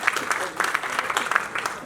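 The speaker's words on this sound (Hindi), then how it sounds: "मैं बच्चों के लिए चाहूंगा कि तालियां आप बजाएं" An auditorium audience applauds the children, a steady patter of many hands clapping for about two seconds, fairly dense and even with slight swells.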